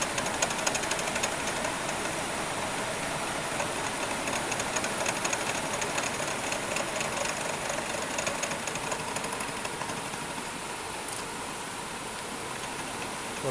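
A metalworking machine motor cutting a pass about ten thousandths deep while squaring off a pry lever bar, a steady continuous mechanical whir and grind with faint rattling, unbroken throughout and without talk.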